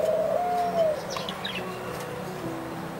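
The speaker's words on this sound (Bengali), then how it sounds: "আমার কাছে ঘুঘুর ডাক অসাধারণ লাগে।" A dove coos at a pigeon loft, a soft low call heard faintly amid light chirps and background noise, with no voices.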